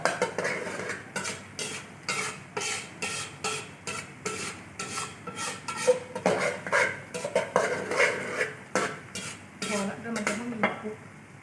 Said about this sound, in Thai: เราก็จะเคี่ยวให้พริกแกงเรา ค่อนข้างที่จะ เหนียวครับ